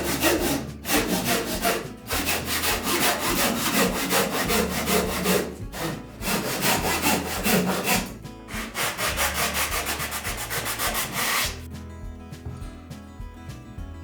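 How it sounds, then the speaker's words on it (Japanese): A handsaw cuts a wooden kamoi lintel to length during a Japanese-room renovation, with fast, steady rasping strokes in long runs broken by brief pauses, loud and close, with no talking. "ですから長さだけを切ってね"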